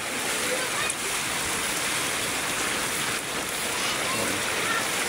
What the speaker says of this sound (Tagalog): babaha to kasi ano, medyo malakas yung ulan